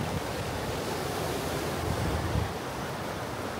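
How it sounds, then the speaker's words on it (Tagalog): Strong ocean surf breaking against a rocky shore in Batanes, a steady, loud broadband roar of churning water with gusty wind buffeting the microphone and no voices. "malakas ng alon dito, tsaka mabato yung area na to"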